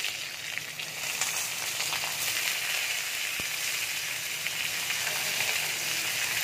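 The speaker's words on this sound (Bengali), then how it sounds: "এবার আমি আলুটা দিয়ে দিচ্ছি" Diced potatoes dropped into hot oil that has just fried lentil dumplings, a loud, steady sizzle close by with light stirring and one sharp tap of a utensil on the pan.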